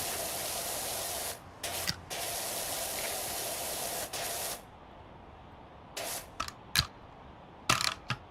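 Pressure washer nozzle spraying in PowerWash Simulator 2: a steady, loud hissing jet that runs in long bursts, stops, restarts, then breaks into short choppy spurts near the end.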